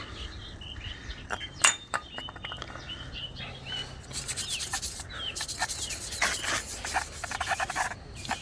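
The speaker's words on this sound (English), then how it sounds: "Now we'll just give this a quick clean" Quick cleaning of a part on a classic Honda CB125 or CB360 motorcycle during restoration, with close scrubbing and rubbing strokes that grow steadier and louder toward the end, over faint background birdsong.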